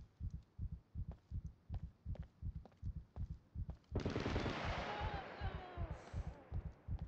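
Gunfire in the survival shooter SCUM, a steady run of evenly spaced muffled shots, thudding and fairly distant, continuing throughout with a burst of hissy noise over the middle section.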